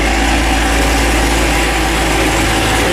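Supercharged ZL1 Camaro with a new short block, running on pump gas at about 15 pounds of boost during a dyno pull, gives a loud, steady, continuous engine drone with heavy low rumble and no talk.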